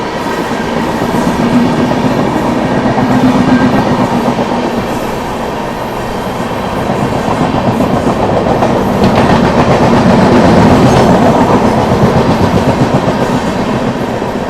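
The Anand Vihar–Puri Purushottam Express overtakes on a parallel track, a loud, close, continuous rumble of passing carriages with rhythmic clickety-clack of wheels and faint squeal, swelling and easing over about fifteen seconds, no voices.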